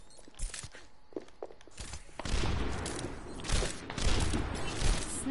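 Sniper rifle fire in the Overwatch shooter game, with a few sharp separate cracks and thuds early on, then a louder, denser burst of gunfire and clatter through the rest.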